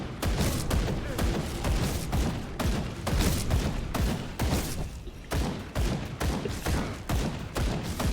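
Dense, continuous gunfire in the video game Grim Dawn, with rapid overlapping shots and thuds, loud and sustained throughout with no pauses.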